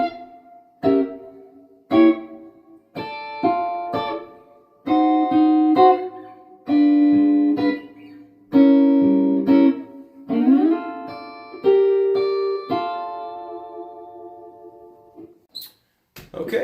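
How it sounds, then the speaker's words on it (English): Gretsch electric guitar with a Bigsby tremolo plays the melody of Dance of the Sugar Plum Fairy in drop D tuning, clean plucked notes in short phrases with pauses, some held and wavering, close and alone. "Bigsby tremolo on the Gretsch here, I'm going to be using that."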